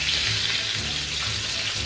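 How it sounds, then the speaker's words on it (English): Hot oil hisses and crackles steadily as brown meat fries, a close, continuous sizzle with small pops and no voices. "That's one thing I don't like about oil, yo. These things just be popping all over the place."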